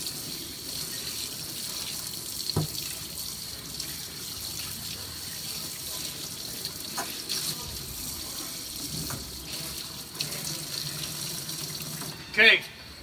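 Hot water runs steadily from a tap in the background, rinsing front disc brake parts, with occasional splashes and a brief louder burst near the end, people talking faintly.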